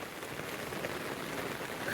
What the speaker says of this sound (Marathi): पाऊस आला आता.